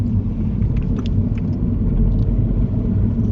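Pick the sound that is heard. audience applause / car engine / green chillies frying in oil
car engine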